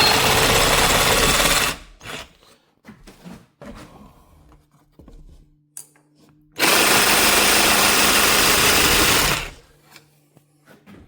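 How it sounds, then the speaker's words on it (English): Jigsaw cutting flooring boards, finishing cuts the miter saw could not reach while flooring a lakehouse bedroom; two loud sustained bursts of buzzing cutting separated by a quieter stretch of handling clatter, close by. "I gotta take my jigsaw and just finish the cuts here"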